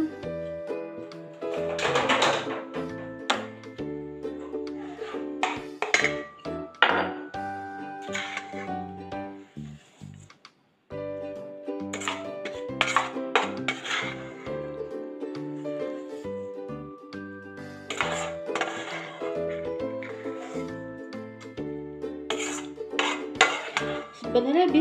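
Sambal bawang ingredients being ground by hand in a mortar, with repeated clattering, knocking and scraping strikes in irregular bursts, fairly close and loud, with a brief pause midway.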